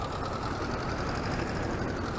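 A tractor engine in Farming Simulator 22 drones at a steady idle, a constant low rumble with no change in pitch or loudness.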